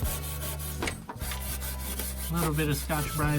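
A Scotch-Brite pad scrubs rust spots on a metal fuel tank from an AE86, a close, continuous abrasive rubbing with rhythmic back-and-forth strokes over a low steady hum, no voices.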